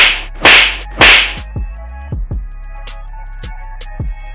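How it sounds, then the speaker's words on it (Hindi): Hard slaps struck across a police inspector's cheek, three loud sharp smacks in quick succession followed by several softer, fainter hits, with no talking. "दरोगा जी के गालों पर लगे थप्पड़ की गूंज सुनाई देती है"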